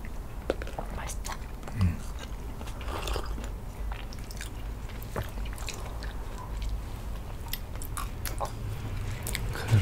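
Someone chews a 64-layer pastry with a buttery, chewy inside, giving close, soft biting and mouth sounds with occasional crunchy flakes, while two people whisper over it.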